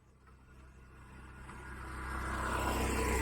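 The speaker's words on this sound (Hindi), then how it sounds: "गाड़ी आ रही है देखो" A car approaches along a road and draws closer, its engine noise rising steadily from a low rumble to a louder, nearer roar as it comes by, with no speech over it.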